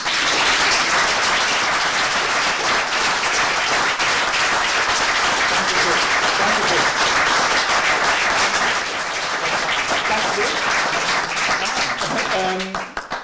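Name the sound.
audience applause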